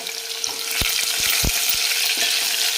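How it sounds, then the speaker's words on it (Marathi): Small chopped onion dropped into hot oil for a village-style egg curry, sizzling steadily up close while a spoon scrapes and knocks against the pan several times. "यानंतर लगेच आपल्याला याच्यामध्ये टाकायचा आहे हा कांदा टाकायचा आहे।"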